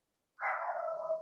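An old, deaf King Charles Cavalier dog gives a single drawn-out bark out of silence. It is close and moderately loud, and its pitch falls slightly as it trails off.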